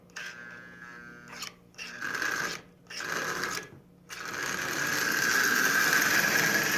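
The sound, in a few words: Marx 666 smoking toy train locomotive running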